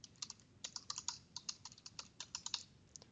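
Fingers type a domain name on a computer keyboard in a quick, uneven burst of crisp key clicks, close and alone.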